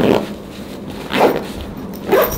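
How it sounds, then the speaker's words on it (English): A backpack converted into a camera bag is zipped shut in three quick, rasping pulls, close and fairly loud with short gaps between them. "And then you can actually zip it up"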